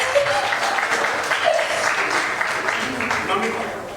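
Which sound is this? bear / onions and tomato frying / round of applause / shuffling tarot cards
round of applause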